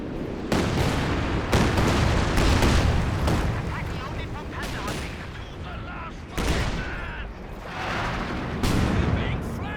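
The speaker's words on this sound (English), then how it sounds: "Officer calling in coordinated barrage" A coordinated artillery barrage in Company of Heroes 2 thunders in repeated heavy booms and blasts, with shells landing in waves among machine gun fire, loud and close, while a commentator talks over it.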